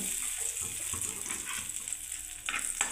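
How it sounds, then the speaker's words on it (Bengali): Raisins frying in a pan for semolina payesh, a soft continuous sizzle with faint stirring scrapes, quiet and close, with no voices. "এবার আমি একটু কিশমিশটাকে ভেজে নিচ্ছি।"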